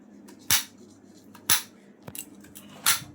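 A knife chops garlic on a cutting board in a home kitchen: three sharp, separate knocks about a second apart, clear and close, with only faint background between strikes and no talking.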